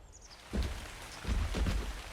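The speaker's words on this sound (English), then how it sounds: "got a bit of rain coming down" Rain falls in the survival video game Ark Survival Evolved, a soft, steady hiss of drops on surfaces that swells in short waves, with no voices over it.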